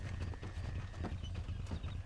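A horse gallops off in Red Dead Redemption, its hoofbeats a quick, even clip-clop at moderate distance, fairly faint and steady throughout.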